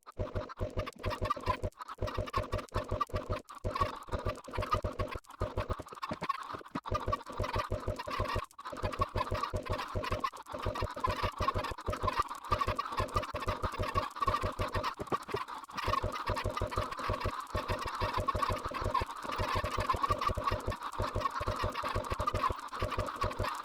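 Minecraft chickens clucking and squawking in a dense, continuous flock, a steady overlapping din with rapid repeated calls filling the whole stretch, fairly loud and close.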